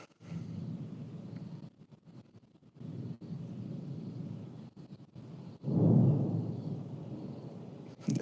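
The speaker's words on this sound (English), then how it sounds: "There's some thunder happening out there." Thunder rumbles outside as a low, rolling, distant roar that fades and returns, swelling to a heavier peak partway through.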